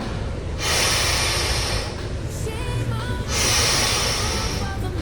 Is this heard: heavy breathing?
yes